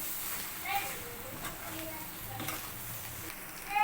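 Egg fry with garlic paste is stirred in a pan, with soft scraping and light sizzling in short bursts, fairly faint, while someone speaks over it.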